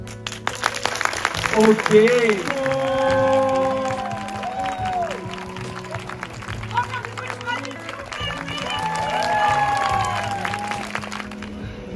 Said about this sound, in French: commence à applaudir, on va voir si ton charisme fait que tout le monde applaudit d'un coup.